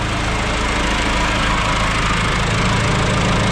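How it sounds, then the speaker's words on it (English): A tractor loader engine keeps idling with a steady, dense mechanical rumble and clatter, close by and continuous, with no talk over it. "I got the loader still running because I don't want to have to jump this again"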